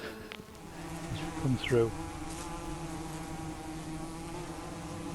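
Wasps swarming around a disturbed nest built into a structure, a steady insect buzz running throughout with a brief louder swell as one passes close, while a person says a few words.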